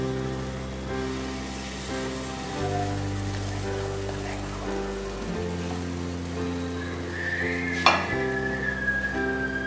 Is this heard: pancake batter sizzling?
yes